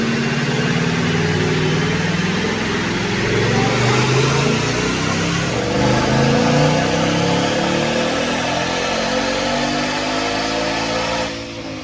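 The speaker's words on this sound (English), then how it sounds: "So check out this dyno pull." 2018 Mustang GT with a Phase 2 Roush supercharger and manual transmission, running on 93 octane, revving loud and close on a dyno pull. Engine pitch climbs steadily through one long sustained run, then drops off briefly at the very end.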